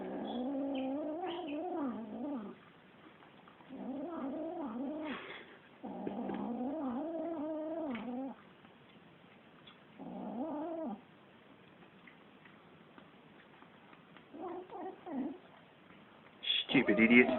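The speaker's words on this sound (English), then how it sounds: "the stupidest thing about these two kittens fighting over one lung half" Two young kittens squabble over a half of sheep lung, giving repeated yowling growls in several loud bursts with pauses between them, and someone talks at the end.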